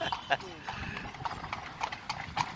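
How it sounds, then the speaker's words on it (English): A horse cart on a Georgetown, Guyana street tour gives off rhythmic hoof clip-clops on pavement while people talk over them nearby. "They can see you roll up on a horse cart."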